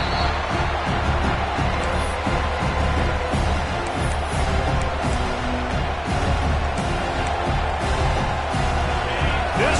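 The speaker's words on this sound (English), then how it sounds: "This crowd bringing the energy and noise early." A football stadium crowd at a college game against Clemson roars loudly and continuously, a dense wash of cheering and whoops with a commentator talking over it.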